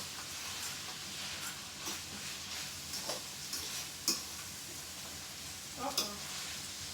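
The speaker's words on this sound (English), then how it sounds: "we'll be sauteing our vegetables to get ready to make the dressing" Vegetables being sautéed for a dressing in a home kitchen pan, with a steady low sizzle and occasional stirring scrapes and utensil clicks throughout.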